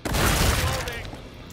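Sniper rifle shot in the video game Killing Floor 2: one sharp, loud crack with a shattering burst that quickly fades into a decaying tail.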